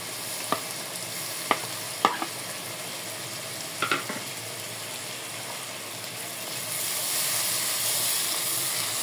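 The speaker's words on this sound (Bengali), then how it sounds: "এই যে মশলাটা একদম পুরোপুরি কষায় নিছি" Coriander, cumin and dried chili paste frying slowly in a pan for mutton curry, a steady soft sizzle broken by a few sharp stirring scrapes, with the frying noise swelling louder near the end.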